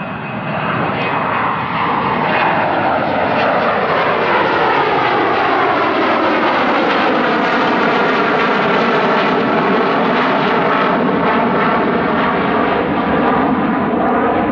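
An airplane roars overhead, loud and sustained, its engine drone swelling and sweeping in pitch as it passes for about fifteen seconds.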